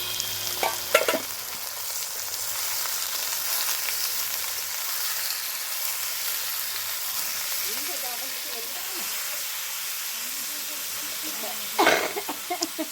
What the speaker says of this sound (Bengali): এরপর দিয়ে দিলাম চিকেন